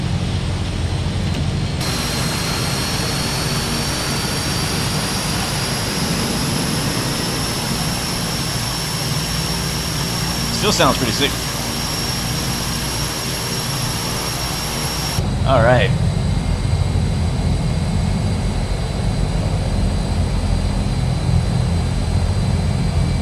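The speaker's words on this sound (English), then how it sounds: "The other engine is so loud, you can't even hear the first engine starting" Twin Otter turboprop engines in Microsoft Flight Simulator roar steadily and loudly with a high whine, the noise swelling further as the second engine comes up, while someone talks briefly over it.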